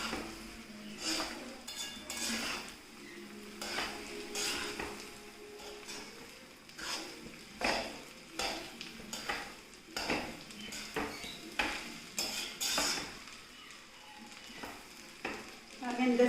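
Chicken fried rice is stirred in a pan over a high gas flame, the spatula scraping and clinking against metal in irregular strokes over a steady sizzle, close and fairly quiet.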